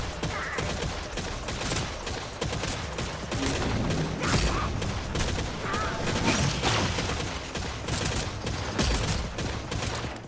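A weapon in the Redfall video game fires rapid bursts of gunfire, each followed by an odd ratcheting mechanical sound, repeating loudly throughout.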